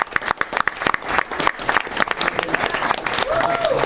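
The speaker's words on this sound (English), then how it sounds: "give them a round of applause" Dense, loud audience applause at a Delaware comedy night, steady clapping from a full room that runs for the whole stretch with a few sharper individual claps standing out, no one talking over it.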